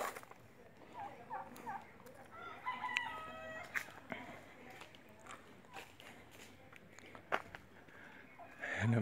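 A rooster crows once, faint and somewhat distant, among quiet clucking from Chinese chickens kept at an outdoor farm spot beside a lychee orchard, with scattered background noises around it.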